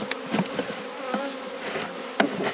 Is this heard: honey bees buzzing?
yes